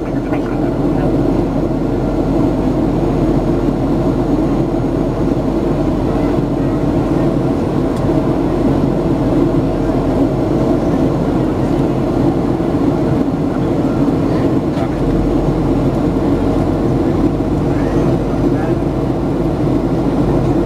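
A Ryanair Boeing 737-800 lands at London Stansted after a flight from Jerez; from inside the cabin, a loud, steady, low engine and airflow roar continues throughout.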